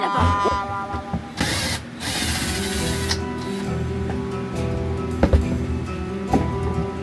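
A power drill whirs in several bursts, spinning up and down as it bores holes while building a truck bed camper, close by with some clanks and knocks between runs.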